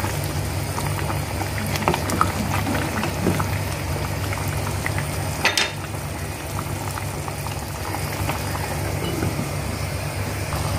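Chicken sopas noodles boiling in a pot, a steady close bubbling and popping simmer that runs throughout with one brief louder splash partway through.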